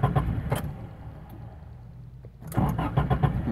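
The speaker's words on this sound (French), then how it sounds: "Mettons, je donne du gaz au fond, même." A car engine is cranked and caught, then revved in short uneven bursts, close and moderately loud, with a quieter dip in between and no talk.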